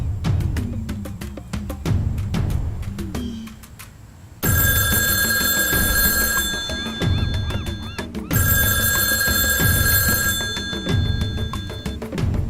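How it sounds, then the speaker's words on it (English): A telephone rings in two long bursts of bright electronic trilling, each lasting several seconds, with low rumbling room noise and thumps between and beneath them. "Woody, answer your phone."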